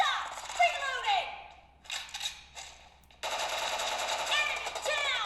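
Rapid automatic gunfire in the mobile game PUBG on a Samsung Galaxy A52s 5G during a team deathmatch, sustained bursts with a brief pause, close and steady, with in-game voice callouts over it.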